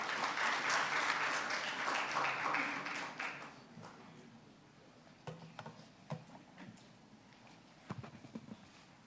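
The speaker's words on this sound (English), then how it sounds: "Let's give him a warm applause," Audience applause at an urban and regional planning forum, a dense burst of clapping for about three and a half seconds that quickly dies away to a few scattered claps.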